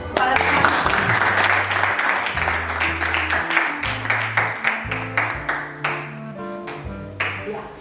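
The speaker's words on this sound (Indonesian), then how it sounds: "Berikan aplaus dulu pada teman-teman." Classmates in an Indonesian school lesson applaud together, a dense burst of clapping that softens and thins toward the end while music-like tones and light chatter carry on beneath it.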